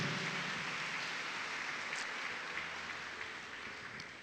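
A congregation claps for the Lord during a Spanish-language church service, a soft, hissy spread of applause heard at some distance, gradually tapering off.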